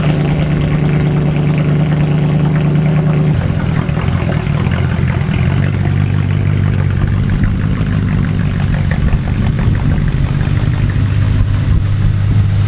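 A Mercedes C63 AMG running on E85 fuel starts up and settles into a loud, steady, rumbling idle that stays close and continuous throughout, with no voices.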